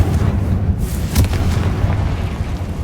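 A loud, deep booming blast from the Bombarda explosion spell in the Hogwarts Legacy video game, with a rumbling, sustained roar and a sharper burst in the middle.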